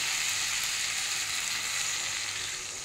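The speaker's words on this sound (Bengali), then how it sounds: "আমি এবার একটু জল দিয়ে দেবো।" Water poured into a pan of oil-fried potatoes sets off a loud, steady, hissing sizzle that eases slightly toward the end, with no talking.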